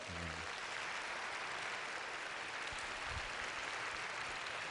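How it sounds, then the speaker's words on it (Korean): A church congregation applauding their pastor, a steady wash of clapping that stays even and moderately distant throughout. "우리 신 목사님께 다 같이 박수 한번 드릴까요?"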